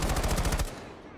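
Rapid automatic gunfire in Rainbow Six Siege, a fast even burst of about nine loud rounds that cuts off, leaving a dull fading rumble.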